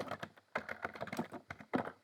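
Computer keyboard typing iptables commands on a server, a quick irregular run of close key clicks with short pauses between bursts, no voice.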